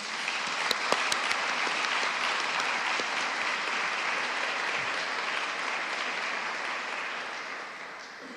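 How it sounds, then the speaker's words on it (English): Steady applause from an audience at a public art press conference, sustained clapping with a few sharp claps early on, tapering slightly toward the end. "Let's give everyone a round of applause."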